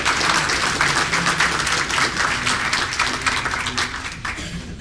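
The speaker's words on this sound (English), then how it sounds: "Round of applause for those with 20 years of service." An audience at a Washington County, Maryland government employee recognition breakfast claps in loud, steady applause that fills the whole stretch without a break and fades slightly at the end.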